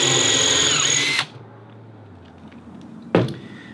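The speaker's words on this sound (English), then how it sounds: "then we'll drill the countersink with this one" A power drill bores a countersink into the wooden frame of a wooden boat under construction, running loud and steady for about a second before stopping, followed by a quiet pause and a single close knock.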